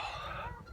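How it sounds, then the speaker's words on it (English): Two geese fight each other, with rough squawks and cackles close by over a steady, noisy outdoor background, all in a short burst. "Those two geese are beating the crap out of each other"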